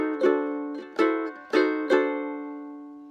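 Ukulele chord solo of a song using ninth and flat-nine chords, four bright strummed chords at a relaxed pace, the last one left ringing and fading alone.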